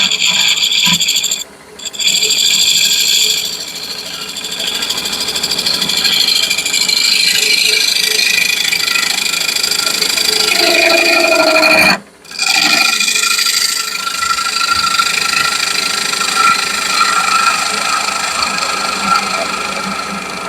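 Wood being trimmed out by hand, a steady close rasping and rubbing of a tool across the grain that runs almost continuously, broken by two short pauses.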